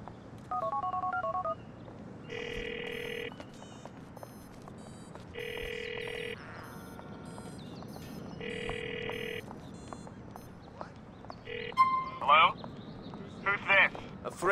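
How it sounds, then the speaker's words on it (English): DTMF keypad tones from a phone in Grand Theft Auto 4, three steady beeping bursts of about a second each, then quicker chirps near the end, heard over a low game-ambience bed. "You've got to call him and keep a lookout for someone answering a phone."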